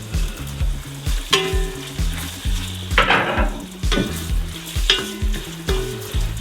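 Pork loin sizzles as it goes into a hot pot for a pork loin with tomato dish, a loud frying hiss broken by repeated scraping and clattering of the utensil against the pot.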